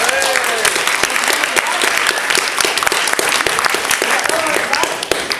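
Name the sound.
audience round of applause for a volunteer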